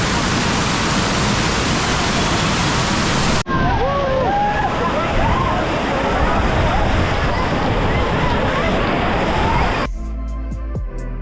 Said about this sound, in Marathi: तो आहे आंबोली वॉटरफॉल फेमस.